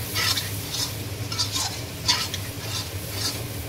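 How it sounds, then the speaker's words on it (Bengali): Spice paste being stirred as it fries in oil for a mutton curry, with a steady soft sizzle and repeated scraping strokes of a spoon against the pot, close by with no talking. "মশলা কষানো হয়ে গেছে, দেখতেই পাচ্ছেন"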